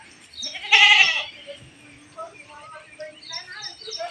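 Goats bleat at close range, one loud, strained bleat followed by shorter, softer calls and light chirping, with faint voices in the background.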